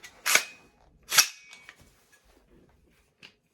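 Forward assist on a SIG Sauer 716I TREAD rifle in .308 being pressed twice, two sharp close metallic clacks followed by faint small clicks.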